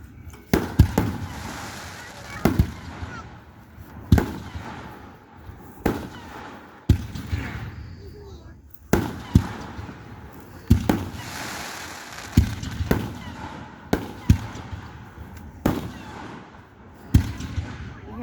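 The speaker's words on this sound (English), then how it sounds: "he's been making the fireworks" Fireworks at an outdoor Independence Day celebration in a park in Flora, a steady series of sharp booming bursts every second or two with rumbling tails, heard at moderate distance while people chatter and call out nearby.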